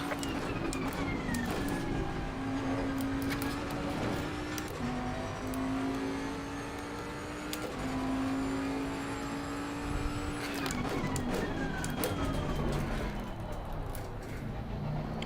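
Race car engines in Assetto Corsa Competizione at Donington roar loudly and continuously, with revs climbing through the gears, short drops on each upshift and another car heard close by.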